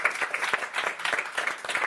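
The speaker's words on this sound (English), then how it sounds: "Keep the round of applause going behind yourself and the squad" A live crowd applauds at the England squad announcement for the 2026 FIFA World Cup, with dense, continuous clapping that swells and surges steadily and fills the space.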